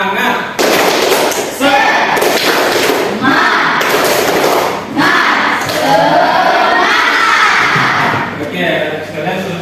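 A classroom of students performs the 'tepuk semangat' chant, with loud, rhythmic group clapping and shouted voices filling the room almost continuously, led by a teacher's calls.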